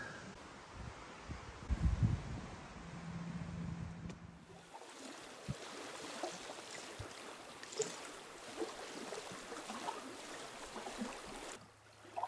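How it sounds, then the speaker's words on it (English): A gentle, steady trickle of a small stream running along a beach in Algonquin Park, with a brief low rumble early on and soft outdoor ambience throughout. "I was just walking along the beach here and I noticed this little stream."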